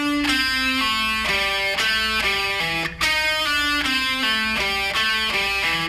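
Slow descending pentatonic sequence on an electric guitar, evenly picked single notes with a clean, bright tone in a steady stepwise rhythm, played alone without talk.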